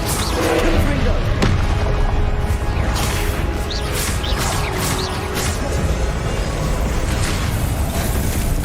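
Confringo spell blasts burst in Hogwarts Legacy gameplay, loud booming explosions layered over continuous game noise and music, with a player's voice shouting over them.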